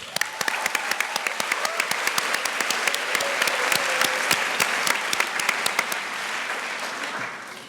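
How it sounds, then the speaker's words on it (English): Audience applause at a closing plenary session of a youth conference, a dense, steady round of clapping from a large crowd that holds for several seconds and then tapers slightly near the end. "Now let's all thank our closing panelists with a round of applause."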